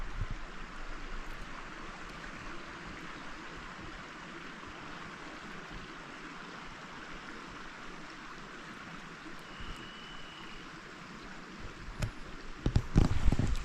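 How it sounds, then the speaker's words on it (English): Water from a creek flows out of a lake outlet on the Pacific Crest Trail, a steady soft rush of running water with light wind and a few small rustles near the end. "You might hear the creek flowing out of the lake outlet flowing."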